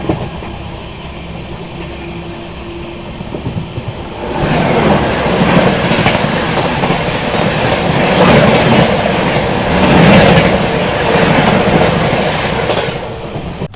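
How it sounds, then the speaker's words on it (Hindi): Lucknow–New Delhi Swarna Shatabdi Express passing close by on an Indian main line, a loud steady rumble of wheels with rhythmic clatter that swells after a few seconds and holds throughout. "अभी देखो आ रही है सामने से लखनऊ नई दिल्ली"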